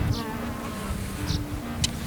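Bees buzzing in an outdoor field recording, their wings making a close, steady drone over faint ambient noise, with a few brief higher flutters passing by.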